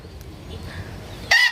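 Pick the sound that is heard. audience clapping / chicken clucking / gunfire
chicken clucking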